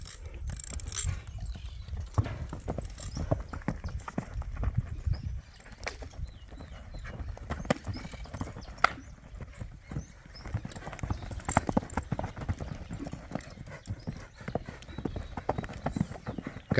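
Hooves of a dun horse clip-clop steadily on a hard surface. The rhythm is irregular and continuous, and there is faint rustling and movement around it.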